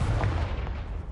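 A Confringo blasting spell cast in Hogwarts Legacy bursts out as one dense, low-heavy explosive boom that stays loud across the whole short moment, with no voices over it.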